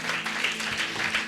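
Brief burst of clapping applause from a church congregation, a moderate steady patter of many hands with no break.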